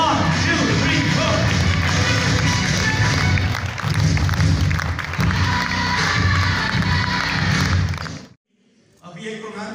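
A live comedy show audience in Pakistan erupts in loud, sustained cheering, shouting and clapping for about eight seconds, then drops off sharply before the noise picks up again.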